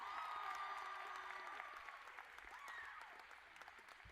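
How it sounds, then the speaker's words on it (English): A high school graduation audience applauds, a steady wash of clapping from a large crowd that gradually thins out over a few seconds, fairly distant and soft. "give a round of applause to Miss Fleming"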